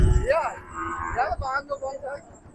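A heifer calf at a cattle market moos close by, a few short rising and wavering bleating calls in quick succession.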